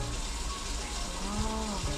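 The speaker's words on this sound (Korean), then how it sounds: "물 이제 떨어지는 거예요 위에서 아래로 이제 떨어지는 거" Water gushing steadily down a drain pipe in a clogged sewer line in Daegu, falling from above into the pipe below, with a constant rushing wash and faint gurgles throughout.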